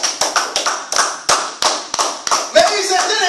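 A church congregation applauding Jesus, a series of sharp, close claps in an uneven rhythm with a brief voice near the end.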